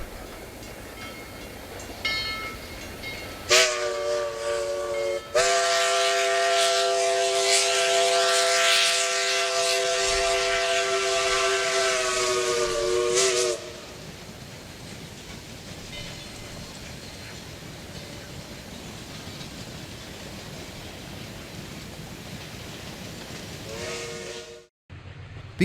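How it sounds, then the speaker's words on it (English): Early Amtrak train approaching County Road KE west of Milwaukee, its horn sounding in long loud blasts over the rumble of the passing rail cars, then the rolling noise continues after the horn stops. "Here the train approaches County Road KE west of Milwaukee"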